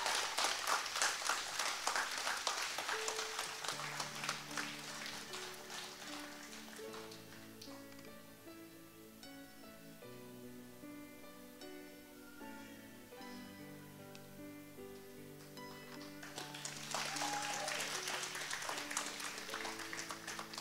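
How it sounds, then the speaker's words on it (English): Applause from a graduation ceremony audience swells at the start, fades under sustained organ-like music, then returns as loud clapping near the end. "A round of applause for all of the awardees of this year's graduating class."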